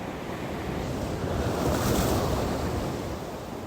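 Waves from a passing ferry washing onto a shore, a steady broadband surf roar that swells slightly in the middle, with wind buffeting the microphone and no voices.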